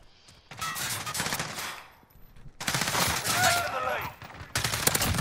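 Gunfire in Call of Duty: Modern Warfare comes in three close, loud bursts of rapid automatic shots, separated by short quiet gaps.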